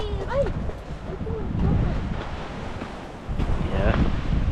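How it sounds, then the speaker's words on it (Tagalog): Strong, cold wind buffets the microphone in heavy gusts on a Taranaki beach, with surf rumbling underneath and voices talking now and then. "Malakas yung hangin"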